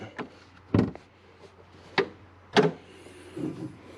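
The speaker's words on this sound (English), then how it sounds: "We pop the hood." Several sharp metallic clunks and a thump sound up close as the hood latch of a Duramax diesel pickup truck releases and the hood is lifted, with quiet pauses between.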